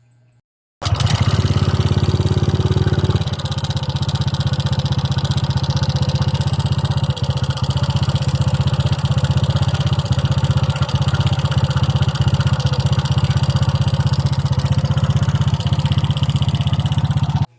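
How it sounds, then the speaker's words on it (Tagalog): A Honda Click 125 scooter with newly fitted block cams starts and settles into a steady close-up idle with a fast, persistent valve ticking under the engine drone. "para marinig natin mismo ng malapitan ang tunog ng kanyang makina"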